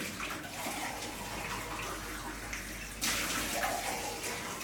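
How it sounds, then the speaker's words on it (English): Tap water running into a kitchen sink while recycling is rinsed, a steady close splashing gush that grows louder and brighter partway through, with no talking. "Just quickly rinsing the recycling"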